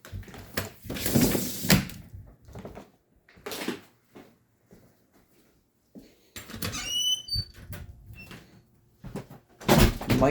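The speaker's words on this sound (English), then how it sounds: "Let's crack open a window over here to give it some ventilation." A household window is cracked open with a series of knocks, bumps and scraping slides, irregular and close, with a short squeak of the frame.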